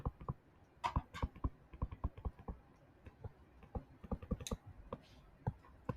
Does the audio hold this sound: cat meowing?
no